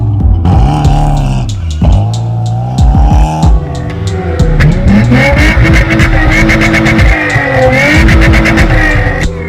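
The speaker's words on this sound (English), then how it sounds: "United States Auto Club recently tested the best-selling car in Europe, the Volkswagen Golf." A Volkswagen Golf driven hard on a test run, its engine revving and rising in pitch through gear changes, with tires squealing, loud and close throughout and no talk.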